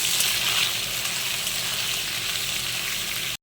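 Chopped vegetables hit hot oil with black cumin in a pan on high heat, a loud, continuous sizzle close up that stops abruptly at the end.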